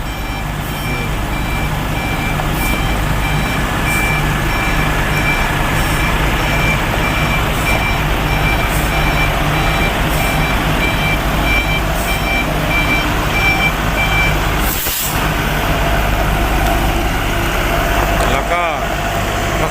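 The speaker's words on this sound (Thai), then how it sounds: "รถลาวก็ได้มาถึงแล้วนะครับ กำลังถอยเข้ามา เสียบหางนะครับผม" A Lao truck backing up to couple onto a trailer at a border crossing, its engine idling low and steady throughout, with faint intermittent reversing beeps and a brief clunk near the end.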